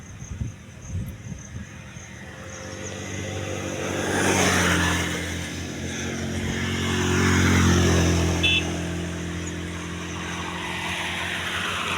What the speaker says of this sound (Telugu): ఒక బస్సు వస్తుంది చూస్తున్నా